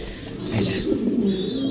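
Pigeons at a pigeon farm coo in low, throaty rolling calls that come close and fairly loud, with soft background chatter.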